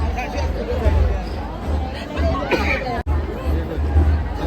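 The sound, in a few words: crowd chatter at Madkai jatra festival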